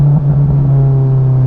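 Honda S2000 with an Invidia Q300 exhaust, driven with the top down, giving a loud, steady, low exhaust drone that rises slightly in pitch early on, with no voices.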